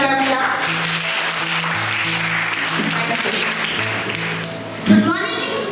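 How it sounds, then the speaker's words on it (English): At a school event, an audience claps continuously for children, the applause mixed with a background voice and humming sounds, plus a short louder bump near the end. "Let us clap for the children. Clap, clap, clap."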